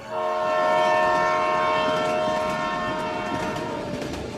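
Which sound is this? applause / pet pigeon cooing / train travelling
train travelling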